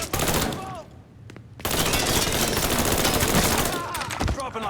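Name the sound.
gunfire in the video game Mafia III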